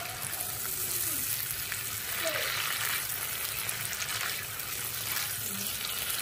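Cumin and chili paste hitting softened tomato in a pan makes a soft, steady sizzle, with occasional faint stirring scrapes and a quiet, indistinct voice in the background.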